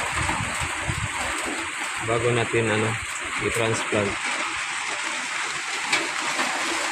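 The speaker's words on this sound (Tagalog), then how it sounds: "Yan, may ulan." Rain falls steadily on a farm plot of green onion seedlings, a broad continuous wash of drops heard throughout, with someone talking briefly over it.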